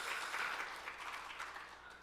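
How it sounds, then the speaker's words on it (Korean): A church congregation claps together during a Sunday sermon, soft and somewhat distant, the dense patter swelling early and then slowly thinning out. "이럴 땐 박수가 나와요."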